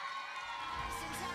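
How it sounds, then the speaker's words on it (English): An audience at the Radix 2022 dance event in Anaheim cheers and whoops for dancer Casey Gross, a dense, continuous wash of crowd noise heard from within the hall. "Go on, take your applause, Casey."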